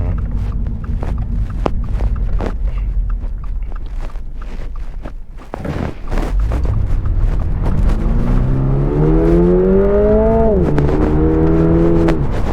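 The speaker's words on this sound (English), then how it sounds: "this thing revs like crazy" A 2022 Toyota GR86 automatic's engine idles roughly, then revs up sharply to about 5,000 RPM with a rising, loud whine that climbs and holds, close by and with no speech.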